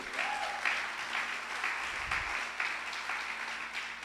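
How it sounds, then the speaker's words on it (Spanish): A church congregation applauding for Jesus, steady continuous clapping from many people, moderately distant and even, with no speech over it. "Dale un aplauso a Jesús."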